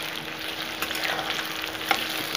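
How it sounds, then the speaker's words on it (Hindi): Chopped onions sizzle and fry in hot oil in a pan for a Bihari-style chicken curry, a steady close crackling hiss with light stirring scrapes. "और अनियन डालने के बाद अब मैं इसे गोल्डन फ्राई करूंगी।"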